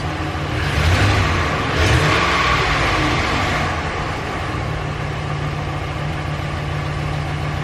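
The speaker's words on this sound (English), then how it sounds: "Let me give it a little gas." A Dodge Ram 1500 pickup engine with a misfire idles steadily, then rises in a couple of short revs early on before settling back to a low, even rumble.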